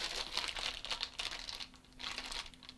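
A plastic package being handled and opened: soft, close crinkling and rustling in irregular bursts, fairly quiet, with no speech over it.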